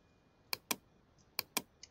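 Keys pressed on a computer keyboard during photo editing, four crisp clicks in two quick pairs, plus a fainter tap at the end, close and clear against near silence.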